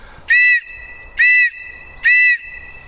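Three short, shrill whistle blasts, evenly spaced about a second apart, loud and clear against near silence, in the Scottish Highlands.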